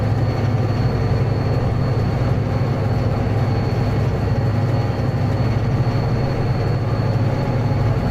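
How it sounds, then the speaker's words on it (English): An F40PH diesel locomotive rumbles steadily in a train simulator game on the Caltrain corridor, a loud continuous low engine drone with no breaks. "It does sound like an F40PH though."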